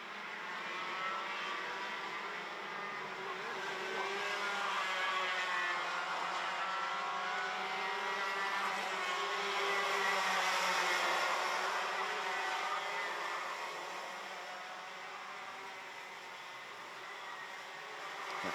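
KA100 racing karts in a final at Ostricourt, a continuous engine drone swelling and fading as several karts pass at mid distance on the track.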